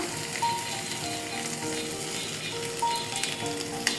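Fish paturi wrapped in banana leaf fries steadily over low-medium heat, giving a soft, continuous sizzle with faint crackles and a few light clinks, no voices present.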